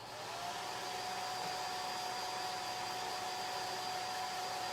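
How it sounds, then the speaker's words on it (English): A hair dryer blows continuously at a steady pitch over a chalk-stenciled sign, a constant whooshing hum with no voices. "I'm going to hit it with this hair dryer so I don't smudge."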